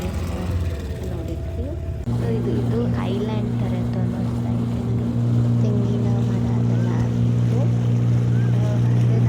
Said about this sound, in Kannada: ಶಿಪ್ ಬೋಟ್ ರೈಡಿಂಗ್ ಮಾಡಲಿಕ್ಕೆ ಹೋದ್ವಿ